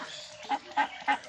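Domestic ducks kept at a village home give three evenly spaced quacking calls, close and clear, with no talk.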